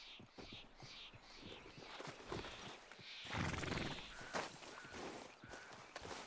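Horse in Red Dead Redemption 2, with steady clip-clop hoofbeats of walking, then a loud whinny in the middle, heard close against a faint ambient hum.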